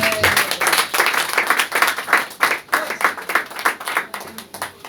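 A church congregation applauds together in steady, dense clapping that fills the space throughout, rising and falling slightly in loudness with no speech over it.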